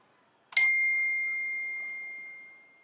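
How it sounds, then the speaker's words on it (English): A single bright phone notification ding sounds near and clear at a seed-bead peyote stitching table, then rings out and slowly fades over about two seconds in an otherwise quiet room. "And there goes my phone."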